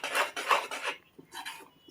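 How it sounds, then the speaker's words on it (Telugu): Spoon scraping and rubbing through a white flour mixture in a metal pot, a few quick close rasping strokes followed by softer, quieter stirring. "తెల్లపిండి వేసుకున్నాక శుభ్రంగా బాగా కలుపుకోవాలి"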